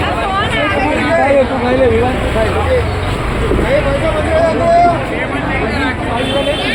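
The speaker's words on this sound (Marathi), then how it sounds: "सगळ्यात खायसाठी लोक गर्दी किती आले आहेत बघा" Dense crowd hubbub at a busy night food market in Manek Chowk, Ahmedabad: many overlapping voices and vendor calls form a steady, loud murmur with no pauses, close around the listener.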